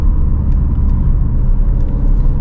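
Steady, loud low rumble of a 2018 Mk3 Ford Focus RS engine heard from inside the car, a constant deep drone with faint whirring and small clicks on top, no voices.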